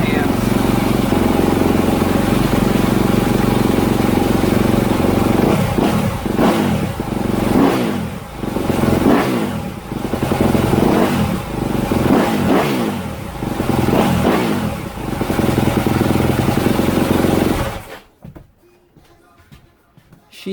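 A 2021 Yamaha YZ250F motorcycle engine, freshly rebuilt with a new piston, idles loudly up close while warming up, blipped with several sharp throttle revs before cutting off near the end.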